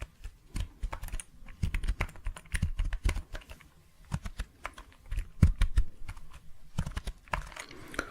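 Fast, irregular clicking of computer keyboard keys being typed on, close up and continuous, with brief pauses between bursts.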